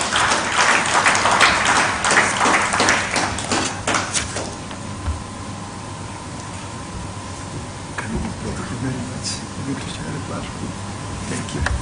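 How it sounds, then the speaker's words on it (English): Audience clapping at a human rights summit is loud for the first four seconds, then fades into room tone with a steady hum and a few scattered sharp knocks, while voices murmur faintly underneath. "can we give him applause"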